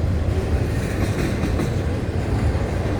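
A freight train hauling ethanol rumbles past steadily, a dense, loud, continuous roar of rolling wheels and rail noise with no voices.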